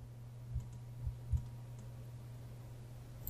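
Computer mouse clicking during CAD drawing in Fusion 360, with a few faint, quiet clicks spaced apart over a low steady hum in a quiet room.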